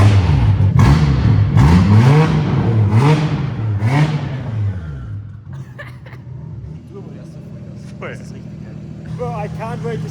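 A BMW F80 M3 fitted with a cheap single turbo kit fires up and is revved hard several times, loud rising and falling engine sweeps that then settle to a rough idle, with people talking close by.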